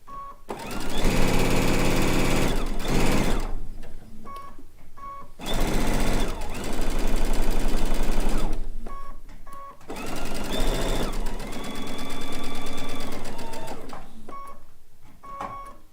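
A sewing machine stitches quilt top pieces for a blue and white quilt in three loud, steady bursts of whirring, with short pauses and small clicks between runs.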